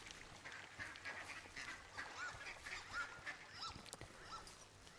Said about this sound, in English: Very, very happy sounding duck.